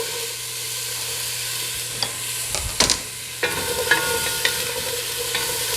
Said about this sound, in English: we're going to hear a nice sizzle. That was loud because my oil is hot.